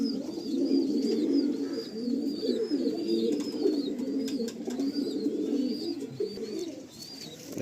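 Tournament-quality pigeons cooing, with repeated soft, rhythmic coos close by over a low murmur of bird sounds.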